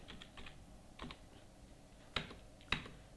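Computer keyboard typing in accounting software, a few faint clustered key taps followed by two sharper, louder keystrokes in a quiet room.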